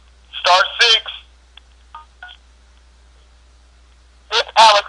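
Phone keypad tones, a few short beeps from pressed keys, set between stretches of someone talking, with near silence between the sounds.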